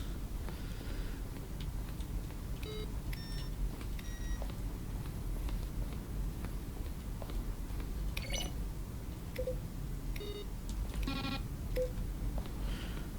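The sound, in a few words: beeping sound in The Stanley Parable video game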